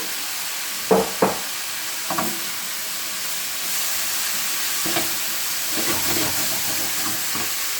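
Seitan fries over very high heat in a mushroom dish, giving a steady, close sizzle and hiss with a few sharp utensil knocks near the start and occasional stirring scrapes.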